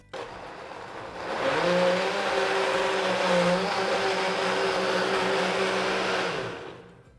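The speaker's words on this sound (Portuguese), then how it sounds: "Agora vamos bater." Blender whirring through apple cake batter for a gluten-free, lactose-free cake: a steady motor drone that starts after a second, holds an even pitch for about five seconds, then winds down.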